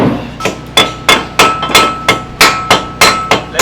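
About ten sharp hammer strikes land at a steady, unhurried rhythm, each a ringing metallic knock heard close and loud.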